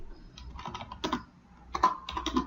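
Computer keyboard keys clatter in short irregular bursts while text is typed into CorelDRAW, close and fairly quiet, with no voices.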